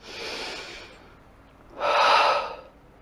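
Two deep breaths during a guided exercise class, a softer inhale followed by a louder, fuller exhale about a second later, heard close and alone with no talking.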